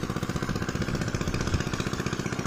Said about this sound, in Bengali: পাওয়ার টিলার মেশিনের মাধ্যমে পানি দেওয়া হচ্ছে ধান খেতে।